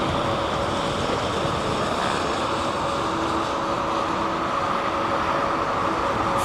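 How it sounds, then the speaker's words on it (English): A Pratt & Whitney-powered Airbus A321neo at London Heathrow gives off a constant, even jet-engine roar that holds steady throughout, broad and rushing, with no voices. "Listen to those Pratt & Whitney PW 1200s maybe?"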